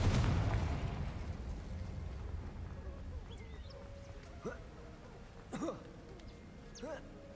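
Fire-blast spells explode in a Harry Potter video game: a heavy, close boom opens, then a fading rumble with scattered fizzing, whistling magical effects and small bursts.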